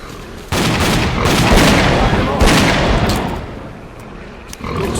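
Sustained gunfire in STALKER: Clear Sky, a dense barrage of overlapping shots and bursts at full loudness with a few sharper cracks standing out, easing slightly toward the end.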